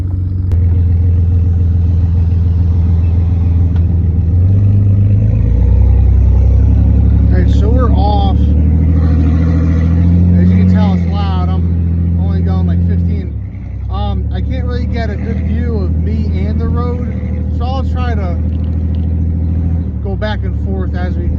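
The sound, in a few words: Jeep 4.0 engine with straight piped exhaust driving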